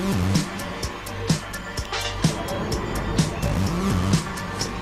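Off-road racing trucks in a Championship Off-Road Racing video game, a continuous engine drone broken by repeated sharp thumps and crashes roughly every half second, close and loud.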